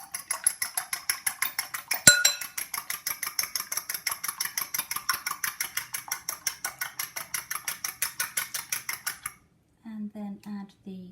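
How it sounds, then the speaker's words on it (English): A whisk beats an egg lightly for cinnamon bun dough: quick, evenly spaced clicking taps against the bowl that run steadily, then pause and give way to a few softer knocks. "Lightly whisk."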